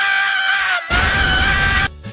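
A cartoon character screams in an animated comedy: two loud, sustained shrill cries, the first running under a second before a short break, then a harsher, noisier second scream that cuts off abruptly.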